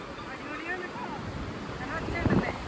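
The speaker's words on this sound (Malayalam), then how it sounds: "നല്ല ഒച്ചയുണ്ട്, വെള്ളത്തിന് നല്ല ഒച്ചയുണ്ട്" Water rushes steadily near Sonamarg, a broad hissing roar partly blurred by wind buffeting the microphone, with voices heard faintly over it.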